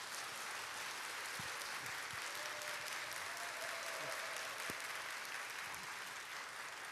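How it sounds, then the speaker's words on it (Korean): A church revival audience welcomes a speaker with dense, sustained applause, a continuous roar of many hands clapping at once without letup. "박수로 모시겠습니다."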